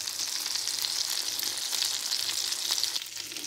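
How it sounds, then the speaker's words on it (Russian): Sausages frying in a pan: a dense, even sizzle and crackle, close and steady for a few seconds with no talk. "И поджарим сосиски."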